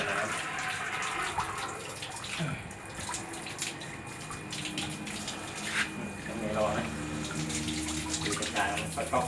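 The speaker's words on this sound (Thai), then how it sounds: "เปิดก๊อกไว้นะครับ" Water runs steadily from an open SUNWA faucet during a tap replacement, a continuous rushing hiss with some splashing throughout.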